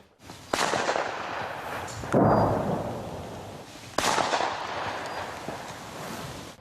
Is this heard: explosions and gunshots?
yes